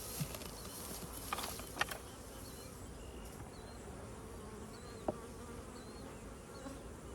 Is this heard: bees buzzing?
yes